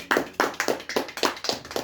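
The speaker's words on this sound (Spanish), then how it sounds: "fuerte aplauso para Cristo" Church congregation clapping together in a steady, quick rhythm, about five claps per second, loud and close, with no voices over it.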